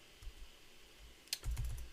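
Quick keystrokes on a computer keyboard, a few faint clicks then a short burst of fast, close typing in a quiet room.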